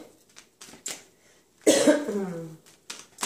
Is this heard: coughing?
yes